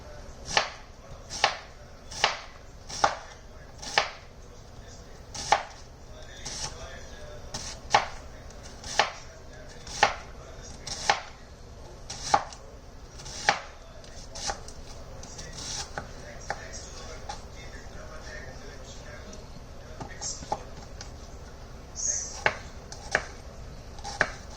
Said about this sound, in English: So we're going to just cut across the horizontal side of an onion, which is to go like this.